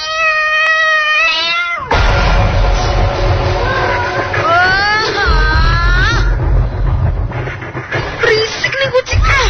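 A cat meows loudly and repeatedly in drawn-out, wavering cries over a low rumbling background.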